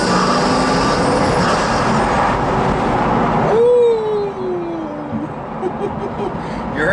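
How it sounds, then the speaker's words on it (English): Pagani Huayra engine under load, with turbo whistle and whoosh rising over a steady, loud engine drone, then a falling whine and a sharp change as the throttle lifts. "Number 1, the turbo noise."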